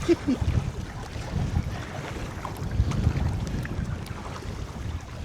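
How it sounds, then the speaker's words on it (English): Wind buffeting a boat paddling down the Grand River, a steady low rumble of gusts mixed with water sounds, with no clear speech. "so there's that wind"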